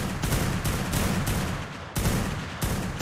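Rapid, loud gunfire in the video game Ark: Primal Fear, dense bursts of shots with a brief pause before the firing resumes.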